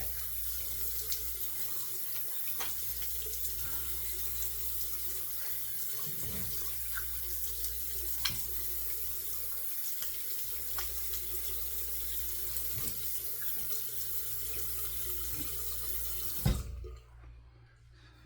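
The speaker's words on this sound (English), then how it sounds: "We'll rinse it. Now we'll rinse the head." Water runs steadily from a tap into a sink while a razor is rinsed during a head shave. The flow is close and constant for most of the stretch, with a few small knocks, then stops abruptly near the end.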